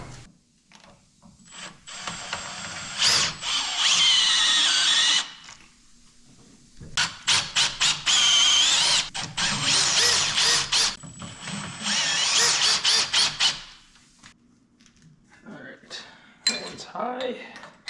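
A lathe spins a cast sprocket held in the chuck while it is trued up, giving loud metallic grinding and chattering cuts in several bursts separated by quieter pauses, with brief talk in between.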